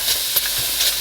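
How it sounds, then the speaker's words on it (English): Food sizzling in a hot pan: a steady bright hiss with faint crackles, brief and close. "Love the sizzle."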